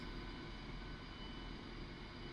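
A Su-25 SM3 jet takes off in the DCS World flight simulator, its engine giving a loud, steady roar that stays unbroken throughout.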